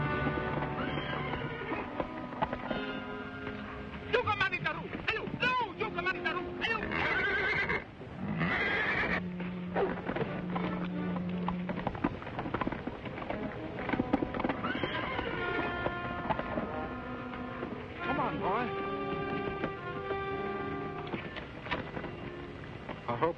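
A horse whinnies loudly in a 1936 adventure film serial, repeated neighs over a continuous soundtrack of orchestral music with clip-clopping hooves.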